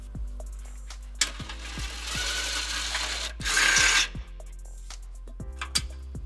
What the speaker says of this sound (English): we can use a 12mm socket to get the other 2